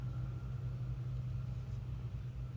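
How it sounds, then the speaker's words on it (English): A loud truck rolls through a residential neighborhood, its low engine rumble steady and continuous from start to finish with no voices over it. "Jesus, that truck is loud."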